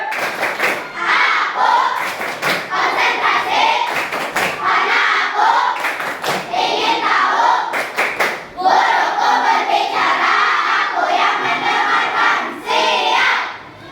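A classroom of children claps rhythmically in quick repeated group bursts and shouts along in a loud, energetic chorus, the claps dense and close with short pauses between rounds.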